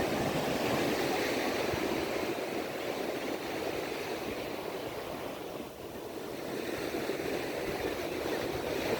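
Steady roar of sea surf breaking on the shore at Chunnambar, Pondicherry, continuous and loud with broadband wash and some wind buffeting the microphone, no distinct pauses between waves.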